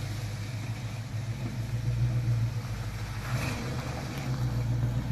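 Dodge Dakota pickup truck driving through a mud puddle, its mid-pitched engine rumbling steadily at moderate distance with a slight surge partway through, no voices over it.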